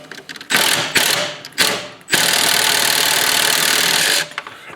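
A wrench works at a stripped bolt on a Cub Cadet LTX 1050 mower spindle, giving two short bursts of harsh ratcheting clatter, then a longer sustained grinding run that stops abruptly, close and loud.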